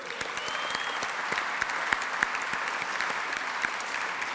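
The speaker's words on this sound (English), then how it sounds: "let's hear another round of applause for our 2019 inductees" An audience at a business hall of fame induction gala giving a round of applause, sustained clapping with a few sharper nearby claps and a faint whistle early on.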